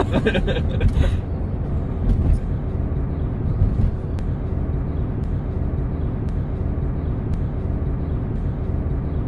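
Steady, loud aircraft cabin drone on a passenger flight from Kirkenes to Tromsø, a dense low rumble that holds evenly throughout with no voices over it.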